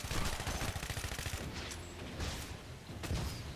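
Rapid gunfire at an enemy in the video game Shadow Warrior 2, a dense run of loud shots with fast rhythmic bursts that ease off midway and then return, with no talking.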